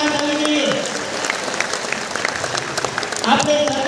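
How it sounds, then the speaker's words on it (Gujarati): Audience at a Patel community annual function applauding, a dense burst of many hands clapping that runs throughout, with crowd murmur and tones of a sound system mixed in. "તાળીઓથી વધાવી લેવી"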